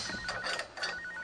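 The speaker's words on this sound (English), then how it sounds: "when his mobile phone rang" A mobile phone ringing on a construction site, a short, fairly faint electronic trill repeating in quick pulses over a steady background, with no one speaking.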